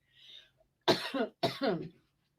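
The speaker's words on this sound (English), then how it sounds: "Got a cough." Two harsh coughs in quick succession, close and fairly loud, following a brief faint hiss; no talking.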